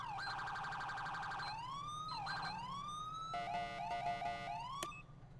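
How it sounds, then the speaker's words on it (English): A police car siren in a video game cycling through wailing and yelping tones, loud and steady, a rapid warbling pattern switching to a different pulsing tone partway through, alone with no talk. "Down on the D-pad to activate your siren to turn it on."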